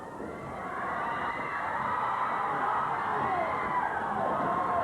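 A wrestling arena crowd at a 1983 Portland Wrestling show swells from a murmur into sustained cheering and shouting, a broad roar that holds steady at full volume.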